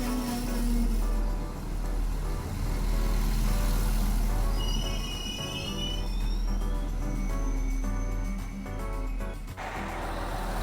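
A diesel railcar idles at an Austrian station on a non-electrified line, its engine giving a steady, low drone with faint whining tones on top. A brief hiss-like burst comes near the end, and no one speaks.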